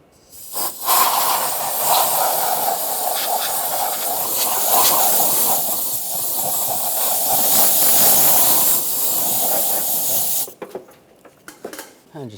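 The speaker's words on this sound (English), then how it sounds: "Just going to use a little compressed air." Compressed air blasting around a 1996-2002 Toyota 4Runner engine during valve cover work, a loud close hissing rush in uneven bursts lasting about ten seconds, then stopping abruptly into faint clatter.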